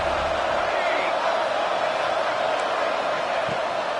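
A stadium crowd roars on a big third down in NCAA 25 college football, a steady, dense wall of noise that holds loud and unbroken throughout.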